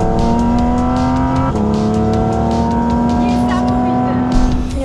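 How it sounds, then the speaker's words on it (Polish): A Porsche 718 Cayman GT4 RS engine revs hard and loud, with a strong sustained tone that drops briefly, likely at a gear change, then climbs again, heard close up from inside the car. "Oto jest Porsche 718 Cayman GT4 RS. Jeden z najgłośniejszych, jakimi jeździłam."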